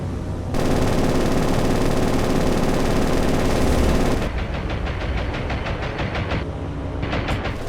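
Aircraft guns strafe in the naval combat game War on the Sea, a loud dense rattle of rapid automatic fire that runs without a break, then turns into choppier stuttering bursts.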